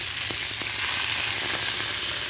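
Fish curry with water just added to a hot pan, a loud steady sizzle and hiss close up with a few faint clicks from stirring, no voices.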